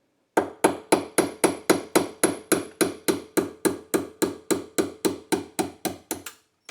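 A hammer taps a pin punch into a pinball flipper linkage, about twenty sharp, evenly spaced metallic strikes close up, steady then tapering at the end, with no talking.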